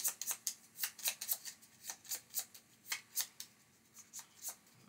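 Deck of cards shuffled by hand for a solo Raising Robots tabletop game: a quick series of crisp riffling snaps and flutters in steady bursts, close up and alone.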